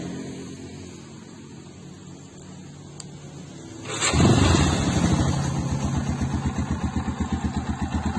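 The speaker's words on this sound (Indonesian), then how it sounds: "Ini coba kita dengarkan suara mesin atau suara Yamaha Scorpio." A stock Yamaha Scorpio motorcycle engine starts up partway through and then idles steadily with a rapid, throbbing pulse, close and fairly loud.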